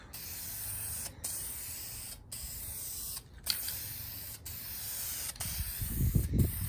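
Bursts of aerosol spray from a spray can coating a used side skirt off a 1990 Mustang GT, a steady close hiss broken by short pauses between passes, with a low rumble near the end.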